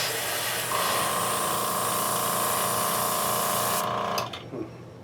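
A steady, hissing spray paint runs for several seconds on model parts with a faint mechanical whine beneath, then cuts off abruptly near the end.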